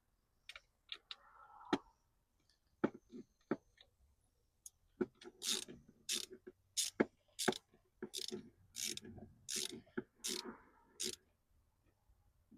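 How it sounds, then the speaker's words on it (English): Ratchet loosening the ignition coil bolts on a 6.4L HEMI in a Scat Pack, a series of sharp mechanical clicks, sparse at first and then a quick rhythmic run of close, crisp ticks. "So we have two bolts, so let's go and take these off."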